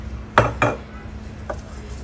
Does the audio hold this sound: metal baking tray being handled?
yes